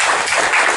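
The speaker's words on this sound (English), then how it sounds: "round of applause for Mr." Audience applause at a partners' meeting in Navi Mumbai, a brief dense wash of many hands clapping at steady loudness.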